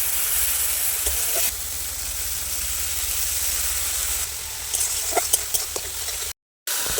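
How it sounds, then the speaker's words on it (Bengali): Ground cumin, coriander, dried chilli powder and Kashmiri chilli sizzle in hot oil, a close, steady hiss with a few sharp spatula ticks toward the end and a brief drop to silence. "এবার আমি মশলাটা কষিয়ে নেব।"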